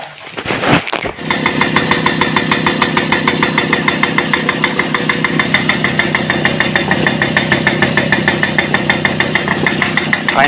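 A TVS Super XL moped engine, just back from carburettor cleaning, sputters briefly as it starts, then settles into a loud, steady, close-up idle with an even, fast-pulsing putter. No one talks.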